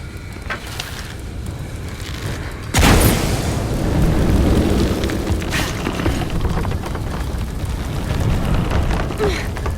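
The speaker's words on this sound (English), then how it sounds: "Exploding that gas might move the pendulum." A gas explosion in a video game set in a massive forge goes off as one loud broadband boom, then a long roaring rumble like fire and wind that holds steady to the end.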